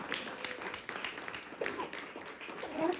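Scattered applause from a small audience at a South African real estate networking event, light irregular clapping heard alongside some chatter and murmuring.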